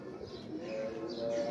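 Racing pigeon cooing at close range in a loft, a soft steady murmur running through the whole moment with faint chirps above and no talking.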